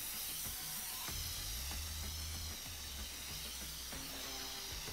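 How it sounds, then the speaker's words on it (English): A can of spray paint hisses in the game InFAMOUS: Second Son, a broad continuous spray held at a quiet level throughout, with low tonal game sounds underneath and no talking. "Okay, let's get spraying."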